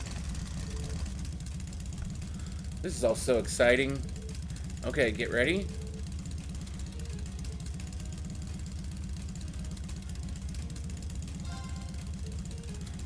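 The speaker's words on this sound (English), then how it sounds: "Alright, I'm going to start up the engine now." A vehicle engine in the game Trails of Cold Steel idling with a steady low rumble throughout, while people briefly talk over it near the start.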